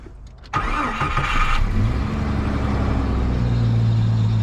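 An old Jeep engine cranks briefly and catches, then settles into a loud, close, rough idle that carries on steadily to the end.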